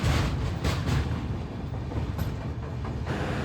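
A passenger train running on rails past Vijayawada, a loud steady rumble with faint rhythmic wheel clicks, heard from on board without speech.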